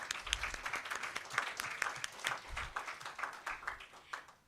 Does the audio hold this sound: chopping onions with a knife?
no